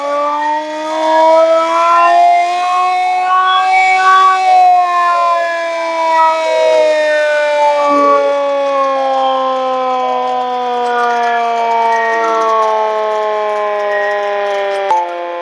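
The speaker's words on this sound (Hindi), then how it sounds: "सायरन को नीची आवाज में बजाते हुए" A civil defense air-raid siren sounds the all-clear during a search-and-rescue mock drill, holding a steady low, slightly sagging wail that stays loud and continuous throughout with no talk over it.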